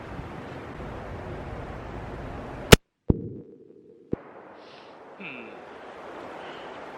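A single sharp, loud crack from a .338 Lapua Magnum Savage 110 BA Stealth rifle fires outdoors, followed by a brief smaller echo and a quiet pause, with faint wind noise around it.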